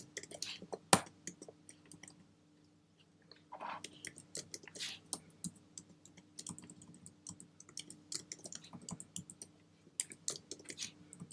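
Quick clicking keystrokes on a computer keyboard, including the Shift key, during vector drawing work in Illustrator, come in irregular bursts with brief pauses, fairly close but quiet, over a faint steady hum.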